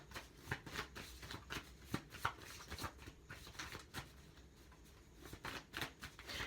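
Tarot cards are shuffled in quick, soft riffling bursts, a close and quiet rhythmic flutter repeating throughout with no talking.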